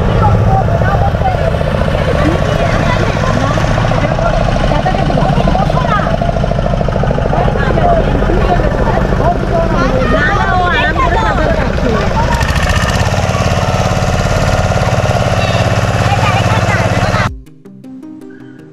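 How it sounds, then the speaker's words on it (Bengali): A motor boat engine runs loud and steady throughout a short ride out to a red crab beach near Digha, then cuts off abruptly at the end. "বোটে করে চললাম লাল কাঁকড়া বিচে।"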